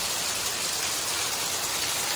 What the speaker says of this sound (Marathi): जोराचा पाऊस आला आहे